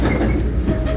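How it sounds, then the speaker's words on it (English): A train backing up on a wye at a heritage railroad station, heard close with a steady, loud low rumble of rolling cars and wheels. "So you gotta notice the train."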